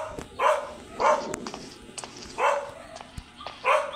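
Dog barking in the horror video game Evilnessa: Nightmare House, four sharp barks spaced roughly evenly at moderate loudness over a dim, steady game ambience, with no talk.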